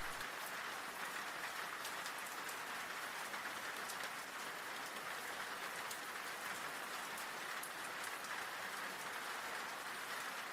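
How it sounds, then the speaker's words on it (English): Soft, steady rain falls continuously with a dense patter of drops, hushed and even throughout with no voices. "the familiar whisper of rain still seems to accompany him"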